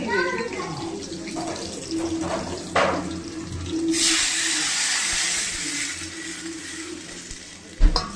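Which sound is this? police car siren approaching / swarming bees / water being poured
water being poured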